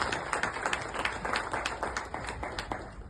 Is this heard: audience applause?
yes